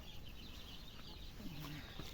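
A hen with her chicks clucks faintly, with a few soft, low clucks surfacing near the end over a steady hiss of background noise.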